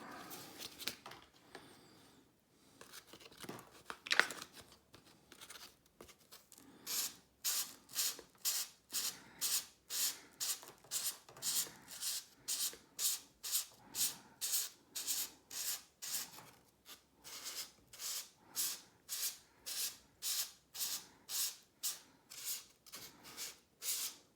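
Replacement carbon quiver tip for a fishing rod, sanded by hand with fine-grit paper: fast, regular rasping strokes in a steady back-and-forth rhythm, close and moderately loud, after a few slower, irregular rubs at the start.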